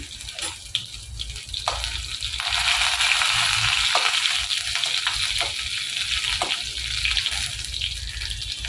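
Whole garlic cloves and a dried red chilli frying in oil in a wok, a continuous close hiss and sizzle with occasional stirring knocks, steady and moderately loud without talk.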